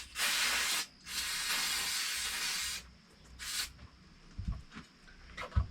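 Spray bursts over a bucket while cleaning a Husqvarna 455 Rancher chainsaw, three close hissing blasts, two long and one short, followed by faint handling knocks.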